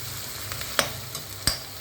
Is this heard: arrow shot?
no